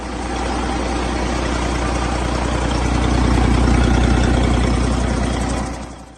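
A Detroit Diesel Series 60 truck engine runs steadily, a loud, low, throbbing diesel drone with a constant pulsing rumble, close by and alone, swelling slightly before fading at the end.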